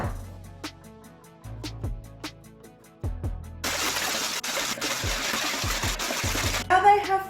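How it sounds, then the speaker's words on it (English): Egg whites being whisked in a bowl until they form soft peaks, a steady whirring, scratchy churn that comes in midway over a light musical backing and runs for a few seconds. "add egg whites to my bowl and whisk them until they form soft peaks"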